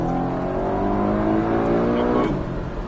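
A Porsche 718 Cayman S engine roars and revs steadily as the sports car accelerates on a race track, loud and close.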